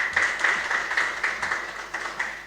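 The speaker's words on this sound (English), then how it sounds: "Let us give ourselves a round of applause." Applause from an audience at the close of a public debate, a steady patter of many hands clapping with regular swells, fairly close and without speech over it.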